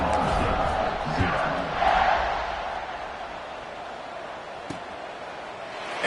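Stadium crowd roars steadily in the College Football 25 video game as the home team leads 27-0 in the first half, a broad wash of cheering that swells briefly early on, then settles into a constant backdrop.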